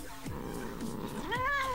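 A cat in the video game Postal 2 gives two clear rising-and-falling meows close up, the second more drawn out and whining, over a low steady background hum.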